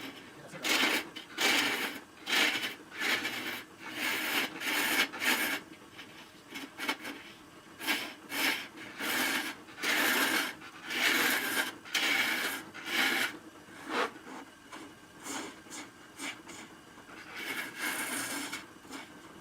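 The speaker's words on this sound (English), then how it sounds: "Gonna switch over to the spindle gouge." Spindle gouge cutting a wood burl spinning on a lathe: repeated rasping, scraping strokes in uneven bursts separated by brief quieter gaps, close and fairly loud, with no talking.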